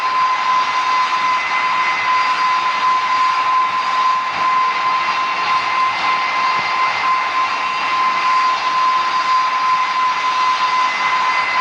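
Steady, loud jet engine roar from an aircraft coming in to land in the PTS flight game, a constant broadband rush with a thin, unchanging tonal whine and no voices.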